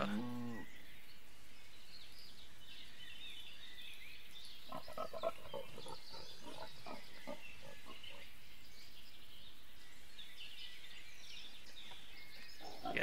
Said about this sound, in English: Pigs are starving.